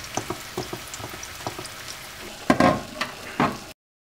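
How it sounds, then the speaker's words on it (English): Tomato sizzles and crackles in a pan with scattered pops, then a few louder bursts of sizzling as it is pressed or stirred, before cutting off. "See, the tomato is cooking"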